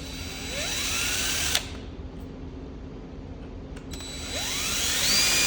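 Power drill whining as it drives a screw while window seals go into a VW bus, two close bursts with rising pitch sweeps at the start and end, separated by a quieter pause with steady background hum.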